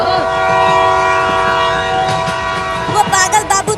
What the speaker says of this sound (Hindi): आगे से ट्रेन आ रही है।